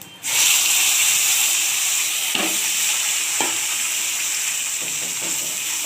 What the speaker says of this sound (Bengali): একটু ভালোভাবে ভেজে নেব গোটা গরম মশলা